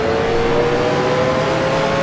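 Race car engine in the Grand Prix Legends video game, a 1966 Can-Am car at Mosport, droning loud and steady at high revs with a sustained buzzing tone and no talk.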